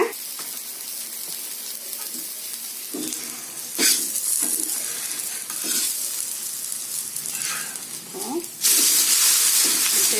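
Adai dosa batter sizzles and crackles in sesame oil on an iron griddle, a steady close frying hiss with a few scraping touches and a louder surge of sizzling near the end.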